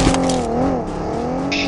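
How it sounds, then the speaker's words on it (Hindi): Vehicle engine in PUBG approaching head-on, a loud continuous droning whine whose pitch bends up and down, close and filling the short clip. "लो यार मेरे सामने से गाड़ी आ रही है,"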